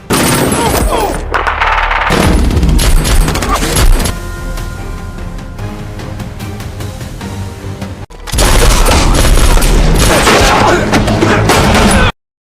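Sustained bursts of gunfire and booms from a film shootout, loud and dense, mixed with music and effects, briefly dropping to quieter tones mid-scene before the heavy firing resumes.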